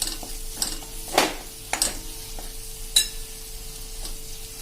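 Kitchen king and garam masala stirred into a sev tomato Punjabi-style curry in a pan: a few sharp spoon scrapes and clinks against the pan over a low, steady sizzle, with no talking.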